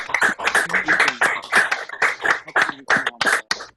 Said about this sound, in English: I want everybody to please show Victor and Wynton some gratitude with a round of applause